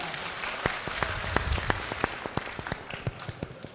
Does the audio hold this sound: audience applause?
yes